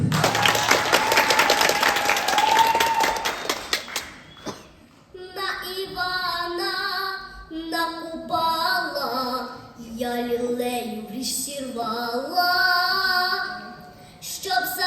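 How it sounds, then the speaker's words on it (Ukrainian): A burst of crowd applause fills the opening seconds, then fades as a child begins singing the Ukrainian folk song "Na Ivana na Kupala" over a musical accompaniment. "Все, Оплески!"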